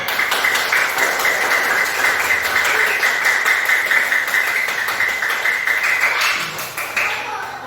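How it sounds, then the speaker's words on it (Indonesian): Steady applause from an audience at a talk, dense overlapping claps sustained throughout at moderate loudness, tapering slightly near the end. "beri tepuk tangan untuk Tuan Tanah"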